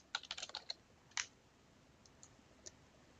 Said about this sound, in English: Type the URL into the bar and then enter your username and password.